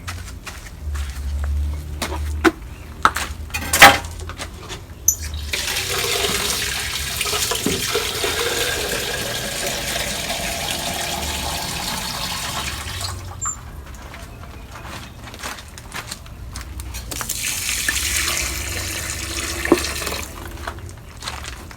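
Water is poured from a container onto sweet potatoes growing in garden containers, a steady splashing wash that comes in two long stretches outdoors, with brief handling knocks and footsteps between pours.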